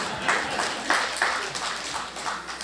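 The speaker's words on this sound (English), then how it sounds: "somebody's clapping for that" An audience applauds during a city's State of the City address, with scattered, moderately loud clapping in a few bursts spread across a large hall.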